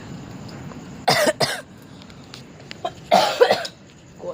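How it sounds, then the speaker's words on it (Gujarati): Two bursts of harsh coughing, each a quick pair of coughs, about two seconds apart, close to the microphone over a low background hum. "ખાંસી બહુ આવશે"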